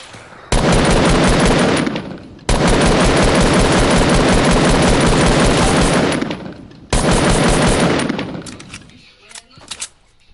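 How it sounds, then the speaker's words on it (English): A light machine gun in Fortnite fires in three long, loud, continuous bursts separated by brief pauses, trailing off into scattered clicks and clinks at the end. "Good thing I got an LMG."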